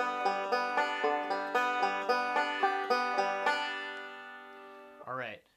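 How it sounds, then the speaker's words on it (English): A banjo plays a bright, even arpeggio roll pattern of picked notes for about four seconds. The notes ring out and fade, then a short bend-like twang closes the phrase. "let's take a look at this roll pattern, how it goes. It sounds like this."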